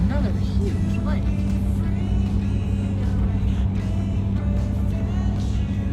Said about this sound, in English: Driving across the dam